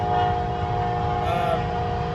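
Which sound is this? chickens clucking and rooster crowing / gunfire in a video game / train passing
train passing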